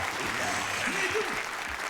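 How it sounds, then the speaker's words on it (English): In the video game Yakuza 0, a crowd breaks into applause, a brief, continuous clapping wash heard close, with a voice speaking over it. "The crowd went wild."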